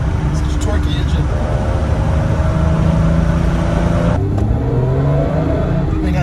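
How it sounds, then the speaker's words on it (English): A 1967 Jaguar Series 1.5 4.2-litre 2+2 on Canyon Road with its straight-six pulling steadily, a continuous low engine drone and road roar throughout, shifting tone near the end as the revs change, with a person talking over it. "Such a torquey engine."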